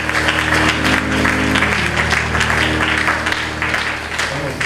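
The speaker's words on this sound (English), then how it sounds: "Come on, clap all over." Church congregation clapping together during a Sunday service, a loud continuous roar of many hands with a low sustained hum of music or voices underneath.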